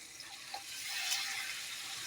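Onion and garlic paste fries in a pan with a soft, steady hiss that swells slightly midway and stays faint throughout.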